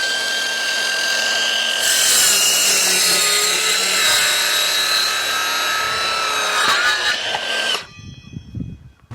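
A power saw whines steadily through timber overhangs on a log store frame, loud and close, the pitch shifting as the blade bites, then cutting off abruptly near the end and leaving clattering handling noise.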